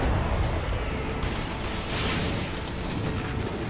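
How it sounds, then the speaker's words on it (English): Continuous dense rumbling blasts from a monster's attacks in Monster Hunter XX fill the whole stretch, loud and steady with crackling bursts and no talking. "He is doing lots of little explosions, but he's not doing the big explosion."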